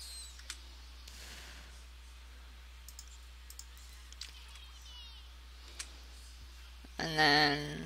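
Quiet, sparse computer mouse clicks tick at irregular intervals over a low hum, single crisp taps spaced a second or so apart, ending with a brief louder game chime.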